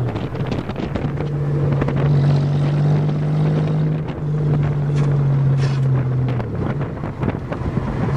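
Engine of a manual-transmission Toyota driven on a farm, droning steadily at around 3,000 rpm, then the revs dip as a gear shift is made, heard up close amid heavy wind buffeting.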